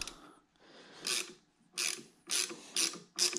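Hand ratchet tool loosening bolts on a motorcycle to mount a ROKFORM Perch cell phone holder, several close bursts of rapid clicking with short pauses between strokes, no talk.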